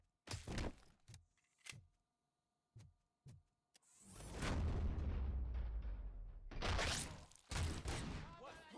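Grenade blast in the Robocop Rogue City video game: a few sharp thuds, then a long, loud roaring burst with debris lasting several seconds, followed by more heavy impacts.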